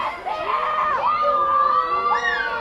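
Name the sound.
crowd cheering at a field hockey game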